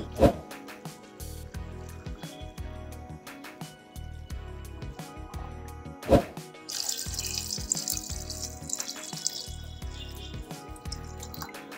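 About a litre of water is poured into a pot holding chicken, bay leaves, garlic, onion and peppercorns for stock. Splashing and dripping sit over faint background music, with a louder splash near the start and another midway.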